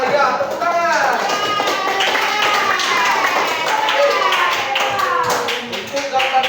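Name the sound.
classroom clapping for group 5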